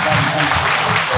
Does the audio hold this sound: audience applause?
yes